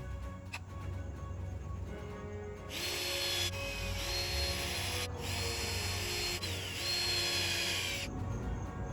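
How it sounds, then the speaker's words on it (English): A power drill bores a bit through a 1x6 wooden board while a kayak and canoe rack is being built. A faint steady hum gives way to two sustained, rising motor whines, each lasting a few seconds, with no talk. "I'm going to take the drill bit and go ahead and drill it all the way through"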